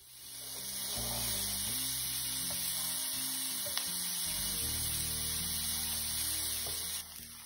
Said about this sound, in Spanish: Lo voy a sofreír en mantequilla hasta cristalizar la cebolla.